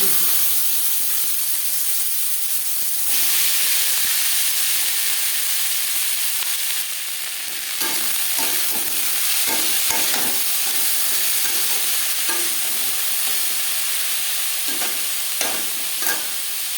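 Ground spices fry in oil left over from frying fish, for a bean-seed fish curry made without garlic or onion. A steady, close hiss and sizzle runs throughout, broken by scattered stirring clicks and scrapes.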